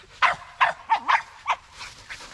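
Several sharp barks from a dog, about five distinct yips in a quick irregular run, close and fairly loud, ending in softer trailing whimpers.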